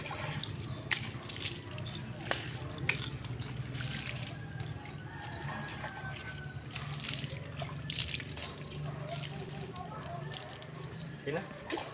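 Water is poured over Paloma the horse during a bath, trickling and splashing softly and continuously. Voices chatter over it throughout.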